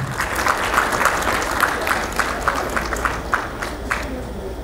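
Applause from the audience at the Efik National Association convention in Houston, greeting a chief called up to pour libation; steady, fairly loud clapping with rhythmic accents runs the whole stretch.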